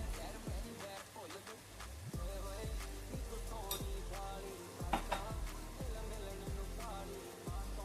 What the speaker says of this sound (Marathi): एक दोन मिनिटे परतून घेऊया